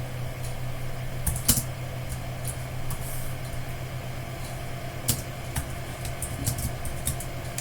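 Sparse keystrokes tap on a computer keyboard, scattered clicks with a few quick pairs over a steady low hum of a fan in a quiet room.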